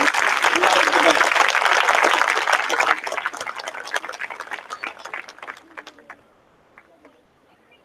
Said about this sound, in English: I can only request each one of you to have a round of applause for the entire gathering and for the children who are at the back.